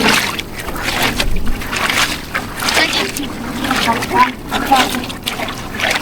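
Strong waves slap and wash against a boat in windy conditions near rocks, a continuous rough splashing with surging peaks, under people talking.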